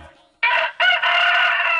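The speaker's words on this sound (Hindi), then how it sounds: "सुबह हो गई है, आकाशवाणी यंत्र ने मुर्गे की बांग दी।" A rooster's crow plays over a radio, a loud, close cock-a-doodle-doo in two bursts after a brief quiet start.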